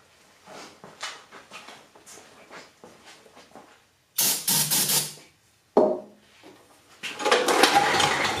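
Carb cleaner sprayed as starting fluid into an old generator, heard as a few short hissing aerosol bursts separated by pauses, with clicking and handling noises between them.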